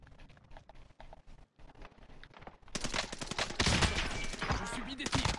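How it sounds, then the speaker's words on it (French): Gunfire hits the player in the Warzone video game, starting as sparse scattered cracks and then breaking into a loud, dense barrage of rapid shots and impacts over the second half. "Je subis des tirs."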